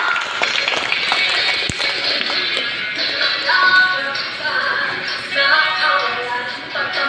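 An audience claps steadily for several seconds, a dense patter of tapping hands at a children's special number performance, with a single sharp knock partway through and no clear voices.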